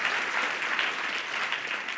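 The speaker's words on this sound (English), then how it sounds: "Let's give them a big round of applause." An audience at a vegetarian expo's opening remarks applauds steadily, a dense, even clapping from a sizeable crowd heard up close with no voices over it.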